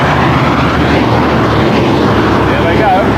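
Hercules military transport aircraft flying overhead at an Expo 88 opening ceremony, a loud continuous broadband engine roar filling the whole span with steady rumble, partly covered by crowd noise or commentary.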